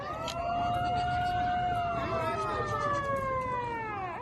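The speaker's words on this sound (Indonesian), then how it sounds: "saat mendengar sirine tanda bahaya" A wailing emergency warning siren at Palaran port in Samarinda, Indonesia, rising and falling in long sweeps, loud and continuous, with several tones overlapping against a busy background.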